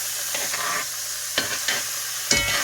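Partially cooked mixed vegetables are sautéed in a pan for Jamaican seasoned rice, with a steady sizzle broken by a few scraping stirs of the utensil, fairly close and with no talking.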